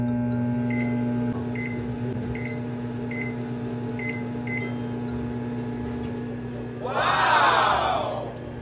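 A microwave oven heats carbonara in a coffee shop, its steady low hum running throughout with faint periodic ticks and a brief louder burst of noise near the end.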